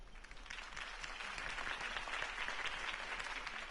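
Crowd applause in a Batman video game after Harvey Dent's campaign speech: a steady wash of distant clapping from many people, even and sustained, over a low rumbling background.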